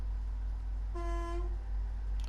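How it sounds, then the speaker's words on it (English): Truck horn in the SnowRunner video game, one clear honk of about half a second over a steady low engine rumble. "honk the horn."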